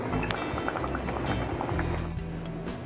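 A pot of tomato chicken curry with tomato puree, pepper and garam masala bubbles continuously, a thick, dense simmer heard close and steady throughout without talk.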